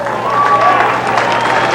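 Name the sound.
crowd cheering at greyhound race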